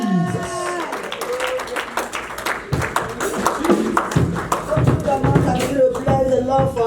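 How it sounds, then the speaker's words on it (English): A congregation claps during a Catholic charismatic renewal church service, a dense, uneven patter of many hands that is loud and close. Voices carry over the clapping. "Clap for Jesus."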